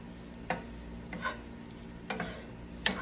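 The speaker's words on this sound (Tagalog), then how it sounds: "Hindi na natin kailangan ng mantika kasi na siya, nagsisisling." Leftover KFC fried chicken warming in a hot pan with no added oil, giving a faint, steady sizzle broken by a few sharp clicks and scrapes of stirring.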